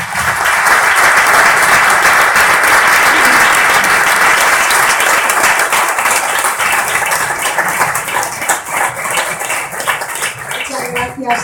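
Loud, sustained applause from an audience at a tribute event honouring a writer in Algeciras, dense clapping holding steady and then thinning toward the end.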